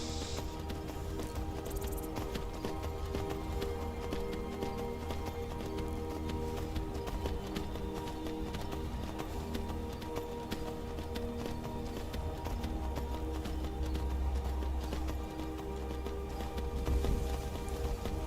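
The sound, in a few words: horse hooves clip-clopping in video game Skyrim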